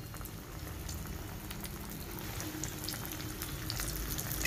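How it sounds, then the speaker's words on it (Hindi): Bread rolls frying in hot oil give a steady, close crackling sizzle with dense bubbling that builds slightly louder toward the end, with no talking. "सो यहाँ पे मैंने इसको तेल में डाल दिया है।"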